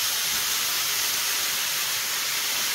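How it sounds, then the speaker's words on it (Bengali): Marinated chicken poured into a hot, oil-free pan, giving a loud, steady broadband sizzle and hiss that runs unbroken throughout with no voices. "এখন আমি এর মধ্যে ম্যারিনেট করা চিকেনটা দিয়ে দেবো।"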